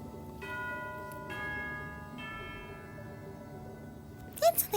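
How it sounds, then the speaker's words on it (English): A bell in the Genshin Impact video game chimes with a few clear, ringing tones that sustain and slowly decay over a quiet background, followed by brief talking at the end. "That's the sound of the bell."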